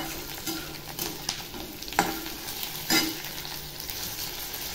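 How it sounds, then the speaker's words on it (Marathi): Tomatoes frying in oil in a pan after onions, with a steady sizzle and a few sharp stirring scrapes, close and alone with no talk. "टोमॅटो सुद्धा चांगला असा फ्राय करून घेते"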